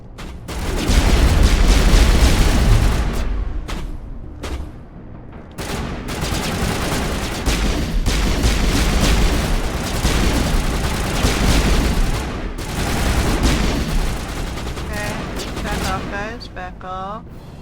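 Rapid bursts of pistol gunfire in the video game Mass Effect crack and boom through a dense firefight, nearly continuous and loud, with brief lulls and layered game effects.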